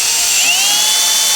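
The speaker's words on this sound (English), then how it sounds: "I've got a drill with the wire brush head on it, and I'm just gonna go underneath lightly" A drill fitted with a wire brush head scrubs corrosion off a motorcycle battery, giving a loud, steady high-pitched whir whose pitch dips briefly as it bites, with no talking.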